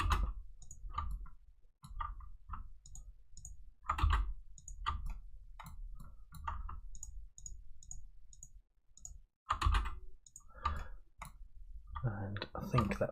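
Mouse clicks tap out at a steady, irregular pace while seams are marked in Blender, crisp and close, with short clusters of quicker clicks and faint room noise between them.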